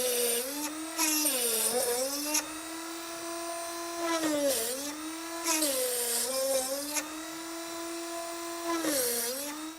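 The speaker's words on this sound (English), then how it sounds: "Now first off, what I'm going to do is drill out the inside cuts" An 8220 rotary tool drills out inside cuts in wood, whining high and loud with pitch dipping and rising as it bites in and eases off, repeated several times in uneven bursts.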